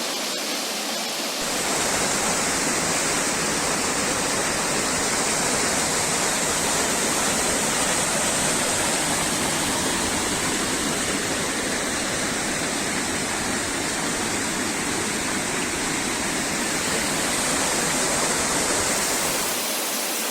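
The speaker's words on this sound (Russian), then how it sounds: "Водоспад, якого немає на карте." A loud, steady roar of a waterfall in the Prykarpattia region of Ukraine, constant and enveloping from start to finish, with no voices.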